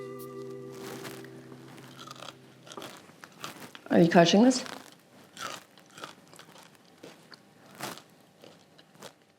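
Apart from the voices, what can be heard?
crunching and chewing crispy baked tofu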